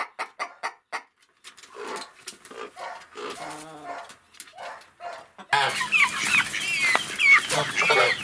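A hen clucks in a coop with her chicks, sending out short close calls, followed by a denser, noisier stretch of busy clucking near the end.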